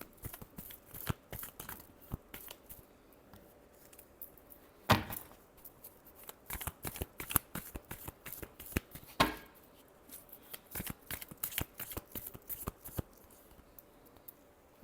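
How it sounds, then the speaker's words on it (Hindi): Tarot cards shuffled by hand in quick bursts of crisp riffling and soft slaps, close up and fairly quiet, with sharper riffles now and then and no talking. "Last shuffle."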